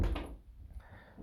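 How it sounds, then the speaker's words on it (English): An indoor door swings shut with a single soft thud right at the start, followed by a quiet room. "Let me just close the door here."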